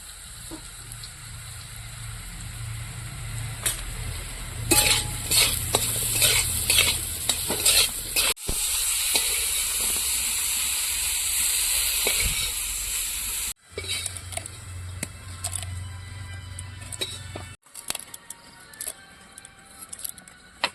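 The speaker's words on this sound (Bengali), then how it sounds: "সবজি ভাজার সময় আমি প্রত্যেকটা সবজিতে একটু লবণ আর হলুদ দিয়ে দিয়ে ভাজবো" Vegetables such as pumpkin frying in hot oil in a wok, seasoned with salt and turmeric, for a winter night picnic; a continuous close sizzle with repeated stirring scrapes and taps, pausing briefly between additions.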